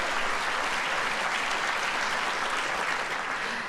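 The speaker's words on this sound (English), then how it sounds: "Listen to them clap like morons" A political audience claps continuously in a broad, steady wash of applause, heard from a distance through a broadcast feed, with no voices standing out.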